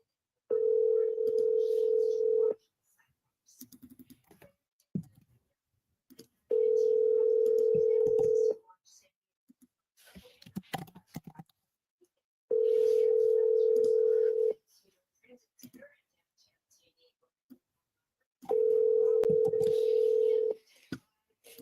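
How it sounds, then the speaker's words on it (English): Outgoing telephone ringback tone: four steady two-second rings separated by pauses of about four seconds, clear and moderately loud, with faint background noise between them. "Let's call Karen instead."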